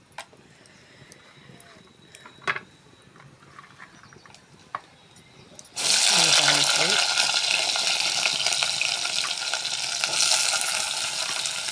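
Tempering seeds crackle and sizzle loudly in hot oil, a dense steady frying hiss that starts abruptly after a quieter stretch and continues while prawns and potatoes are being cooked.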